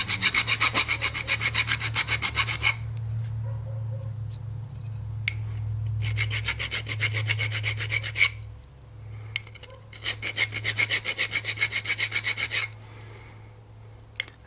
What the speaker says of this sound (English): Just going to get a flat file.